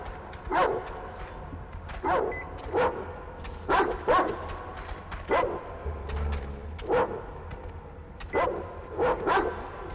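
Dog barking in the video game Metro Exodus, a series of repeated sharp barks and yips at irregular intervals, moderately near over a low ambient rumble, no talk.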